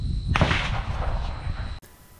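A 300 PRC rifle firing a Retumbo powder load: one sharp, loud report followed by a short rolling echo that cuts off abruptly.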